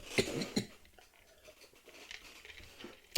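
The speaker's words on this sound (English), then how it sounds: "Sorry, got a little cough." A couple of short, muffled coughs near the start and another at the very end, with quiet background in between.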